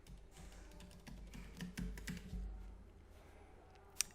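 Soft, close keystrokes on a PC keyboard come in a short run, the sound of a password being typed, with one sharper click at the end.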